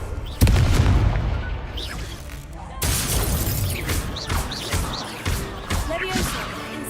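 A spell explosion in the game Hogwarts Legacy, a loud booming blast that rumbles and crackles, followed by a second burst with scattered debris and shattering, while a voice talks over the action.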